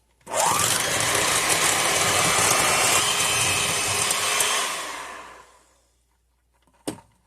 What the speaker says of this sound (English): I have my handy hand mixer to do the job